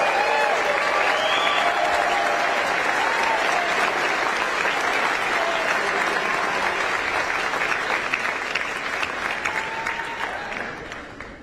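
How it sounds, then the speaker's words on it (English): A large crowd applauds at a political rally in Nevada, honouring police officers, with loud sustained clapping and some cheering that holds for around ten seconds before gradually tapering off. "Let's give them a round of applause for everything they do and all those who help us"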